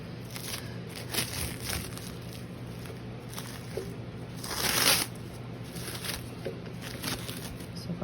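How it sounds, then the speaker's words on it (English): Plastic wrap is peeled off beef Wellingtons before they go onto a pan, giving soft crinkling and rustling throughout with one louder crackle burst midway, close and quiet with no talking. "We're going to take them out of that plastic wrap and put them on our pan."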